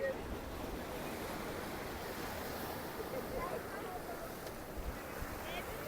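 Sea waves wash continuously at Kanyakumari near the Vivekananda point, a dense, steady surf roar carried with wind, while faint voices talk in the background.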